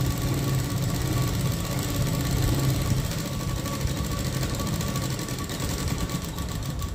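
A sewing machine runs in one continuous, steady stitching drone as it sews along the edge of a prince-cut blouse, close and fairly loud.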